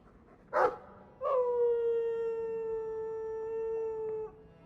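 A short yip, then a single long, sustained dog howl holding one pitch for about three seconds before trailing off, in the video game Dragon Age 2.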